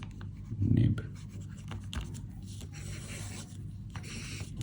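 A Diplomat Elox fountain pen with a fine number 6 nib writing on paper, soft close scratching and rubbing strokes, one brief louder rub near the start, under a low steady background hum.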